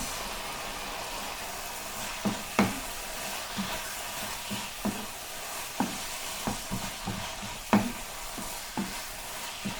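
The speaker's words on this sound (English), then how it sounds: "Got a good sizzle going on there." Steady frying sizzle of chicken pieces turned in spices, with scattered clinks and scrapes of a utensil stirring in the pan, close and moderately loud, no voices.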